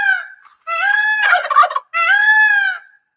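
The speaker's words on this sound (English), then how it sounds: "Apparently, all of our birds want to help communicate with you as well." Domestic turkeys gobbling nearby, three loud rattling calls in quick succession with short gaps between them, heard clearly on their own.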